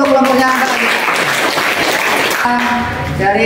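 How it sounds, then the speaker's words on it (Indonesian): Loud, sustained applause from a group of school students in a classroom, filling the whole stretch with dense, steady clapping and no speech over it. "Sebelumnya tepuk tangan dulu untuk kelompoknya Mbak Anggita."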